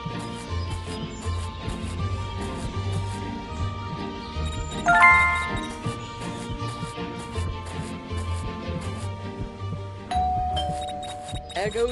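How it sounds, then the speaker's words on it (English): Doorbell ringing inside the Scary Teacher 3D video game, bright chiming ding tones sounding twice over a looping game music bed, with a character's voice speaking between the rings. "There goes that stupid bell again."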